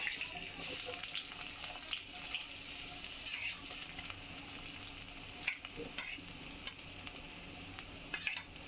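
Onion frying in oil in a pan, a steady broadband sizzle with occasional stirring scrapes and clicks throughout, fairly close and even in level, no voices over it.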